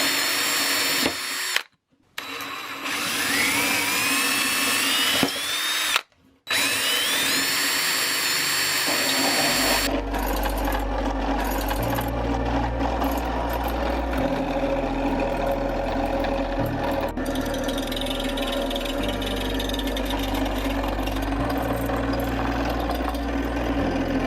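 A power tool whines loudly, then a scroll saw runs cutting wood in a DIY workshop, a steady motor drone with shifting pitch as the blade bites through the board, continuous and close.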